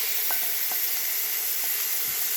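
Onions and aubergine flesh fry in a pan, giving a steady, close sizzle with soft crackles and a few faint stirring knocks, and no voices.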